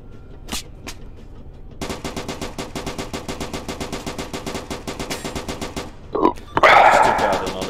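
Sustained automatic gunfire from a tank battle in the video game Arma 3, a rapid steady stream of shots lasting several seconds after a couple of isolated reports, followed by a louder burst and a rushing blast at the end.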